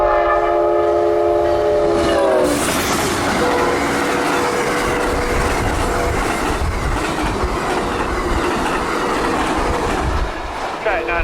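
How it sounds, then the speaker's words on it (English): Amtrak 91, a passenger train, blows its horn while approaching Winston on a CSX line, then roars past close by with a loud rushing rumble and rattling wheels, fading slightly at the end. "The dispatcher has set up Amtrak 91 to highball through Winston on track 1"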